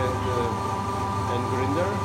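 KT LM-32A mixer-grinder running in mixing mode, a steady motor drone with a constant tonal hum and rattling undertone, continuous and fairly close throughout.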